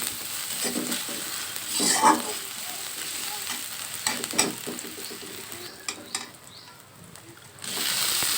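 Garlic paste frying in a hot pan for a home-style egg and potato curry, a steady close sizzle with scraping stirs and a louder burst of frying near the end.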